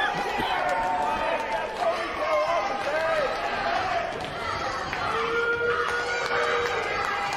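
Crowd at an indoor wrestling event in Sedalia, Missouri, a steady wash of cheering and chatter with shouts rising over it, while a commentator talks throughout.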